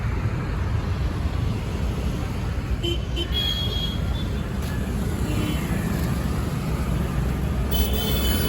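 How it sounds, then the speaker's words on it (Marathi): Road traffic in Panaji, Goa, where a casino area sits near the bus stand, rumbling steadily as a continuous wash of passing vehicles with occasional higher engine or horn tones, no speech. "इकडं खूप ट्रॅफिक असते बघा चालू आहे ट्रॅफिक"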